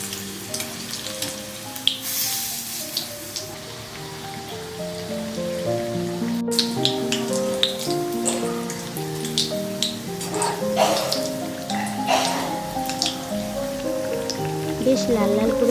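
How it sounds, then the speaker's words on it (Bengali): Bread pakora pieces frying in hot oil, a continuous bubbling crackle beneath background music, with occasional louder spatters. "এবার চারদিকটা উল্টে পাল্টে চারটে দিকই সুন্দরভাবে লাল লাল করে ভেজে নেব।"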